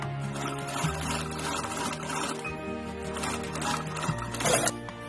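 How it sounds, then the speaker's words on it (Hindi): A sewing machine stitches fabric for a small party bag, a close continuous mechanical whir with a few brief shifts in pace. "अब हम इस तरह उसी तरह इधर भी सिलाई कर लेंगे"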